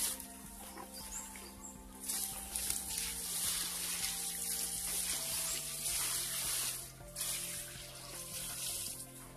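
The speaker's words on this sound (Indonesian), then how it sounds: "lalu sisa air dari rendaman nasi tadi kita masukkan ke dalam sak" Leftover rice-soaking water poured into a sack of bamboo leaves for compost, a continuous close splashing and gurgling flow with faint rustling, steady for several seconds with brief dips.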